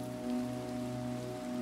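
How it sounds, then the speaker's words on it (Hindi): Rain falls steadily in the Minecraft video game, a soft continuous patter heard alone over a faint low hum, at a quiet level throughout. "बारिश हीरो ब्रायन के लिए काफ़ी फायदेमंद साबित हो सकती है,"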